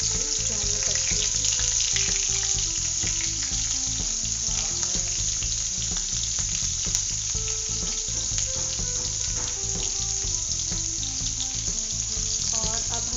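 Nigella seeds and garlic sizzle steadily in a hot pan, a dense continuous frying hiss that stays loud and close throughout, with faint tonal background sounds underneath.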